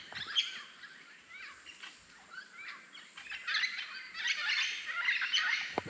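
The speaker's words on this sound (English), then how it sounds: "Those are the parrots." A flock of green parrots calls from trees above a farm, giving repeated short, chattering squawks and chirps that overlap and grow busier toward the end, fairly faint and with no voices.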